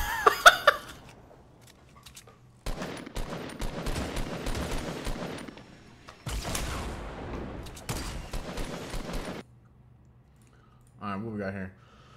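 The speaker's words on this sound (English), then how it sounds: "Oh, it's a shootout, boys." A Fortnite gunfight brings long, dense bursts of rapid gunfire in two extended volleys, with quieter gaps between them and brief talking at the end.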